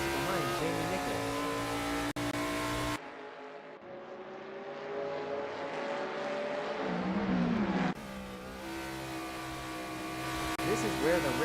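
Race cars scream along at speed in a racing video game, with layered, rising and falling high-pitched engine whines. A voice speaks over the engines at times.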